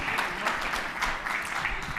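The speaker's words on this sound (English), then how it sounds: "So everybody give him a round of applause." Conference audience applauding a speaker coming onstage at a Litecoin summit, a steady dense wash of clapping held at even loudness throughout, with no voices over it.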